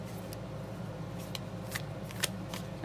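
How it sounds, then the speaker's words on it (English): Cards of a Cosmic Cycles tarot deck being shuffled close up, soft papery riffles and a few sharper flicks and taps over a low steady background hum, with no voice. "we're going to use the Cosmic Cycles Tarot deck. So I shuffled off camera."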